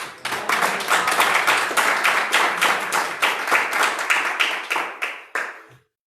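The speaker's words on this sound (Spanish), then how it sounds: "Dá un aplauso a Jesús." A church congregation claps together in a steady, dense burst of applause lasting several seconds, close and loud, with no talk over it, then tapering into a few final claps before stopping.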